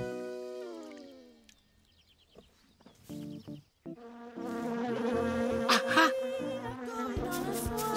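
Cartoon bee from the animated series Tinga Tinga Tales buzzing in a continuous droning whine, layered with bright music and other busy sounds, fairly loud throughout the second half.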